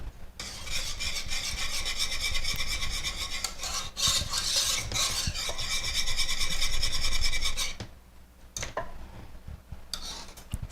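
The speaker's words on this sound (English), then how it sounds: "whisk it together" Chocolate cream pie filling being whisked in a bowl, a brisk continuous scraping rasp that runs for several seconds, pauses briefly, resumes, then stops, with a few lighter strokes and taps at the end.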